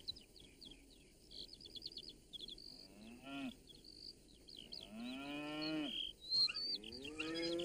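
Cows at Greendale Farm, near an old well, give several long, drawn-out moos of rising loudness, the last ones close and strong, while small birds chirp steadily in the background.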